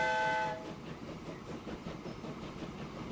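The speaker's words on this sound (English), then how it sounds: "The train coming out." A train in the Transport Fever 2 video game sounds a brief horn, then rolls on with a soft, steady rumble and faint clatter, fairly quiet with no speech.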